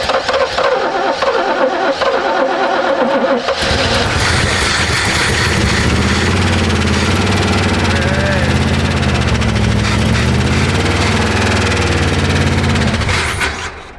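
A 1968 Oldsmobile 442 V8 cranks and fires up, then runs loud and rough with a crackly, popping exhaust from leaking headers and no rear exhaust, close by with voices faintly beneath.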